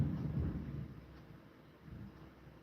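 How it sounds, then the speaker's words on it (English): A faint, distant rumble of thunder rolls low and soft, strongest at the start, then fades into a quiet ambient hush with a slight swell near the end. "Sorry, I just heard a really weird rumble. I think that was thunder."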